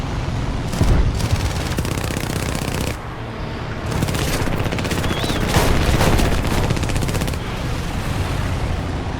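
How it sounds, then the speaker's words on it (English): Gunfire raking a Hurricane Mk IIB fighter in the War Thunder game: loud, rapid bursts of rattling impacts and shots in clustered volleys over steady engine drone, with a brief lull before the hits return. "it appears as I've been shot at and may have been on fire temporarily"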